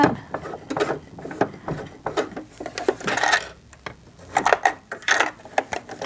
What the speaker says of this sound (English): take a couple stitches by turning the flywheel on the right hand side of the machine towards me